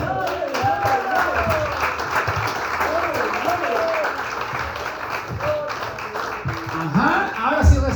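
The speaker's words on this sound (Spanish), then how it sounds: "Dale un aplauso al Señor." A church congregation applauds at length during a Spanish-language sermon, thick sustained clapping with voices calling out and talking over it, swelling louder near the end.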